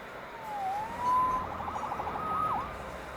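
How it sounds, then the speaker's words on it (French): Police sirens in a video game, faint and distant: wailing and yelping tones rise and fall over a steady background rumble, with no talk. "Sauvé par les sirènes."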